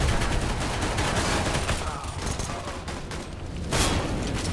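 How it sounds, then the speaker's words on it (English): Rapid gunfire rattles continuously from a Counter-Strike: Global Offensive match, dense bursts of shots filling the whole stretch, loud and close, with a brief dip before a final burst. "Sorry, I shot you."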